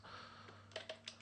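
A few quiet clicks of typing on a computer keyboard, three or four soft keystrokes near the end of a faint, short stretch.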